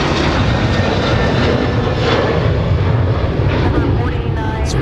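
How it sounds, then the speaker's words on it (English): Heavy jet airliners roaring outbound from Minneapolis–Saint Paul airport, including a Delta A350, a loud, sustained engine rumble filling the whole stretch, close and unbroken. "now we've got Discover and Delta outbound with heavies"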